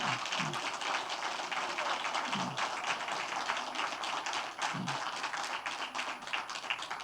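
A church congregation claps during a Sunday service, steady moderate applause throughout at a slight distance, without talk over it.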